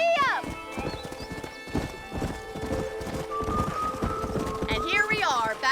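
A horse in Red Dead Redemption trots with rhythmic hoof clip-clops and lets out whinnies at the start and end, with a person talking over the hoofbeats.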